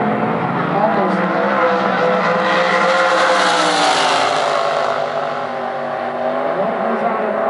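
Drag racing cars at a mountain strip's final rounds roar continuously as they launch and accelerate, a loud sustained engine blare with some crowd and announcer-like voice mixed under it.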